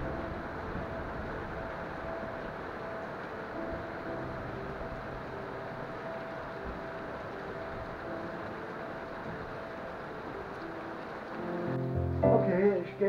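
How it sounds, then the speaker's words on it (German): Steady rain hissing continuously, with a louder, busier burst of noise near the end. "Das hat sich schön eingeregnet."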